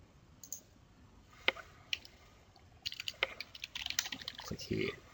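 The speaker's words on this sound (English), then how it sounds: "You simply click and type, very straightforward." Clicks and typing on a computer keyboard: a few scattered key taps, then a quicker burst of typing, close and moderately loud, with talk faintly underneath.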